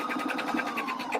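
A sewing machine makes quick, light rhythmic stitching pulses up close while locking a stitch on a fabric bucket hat, moderately loud with no voices.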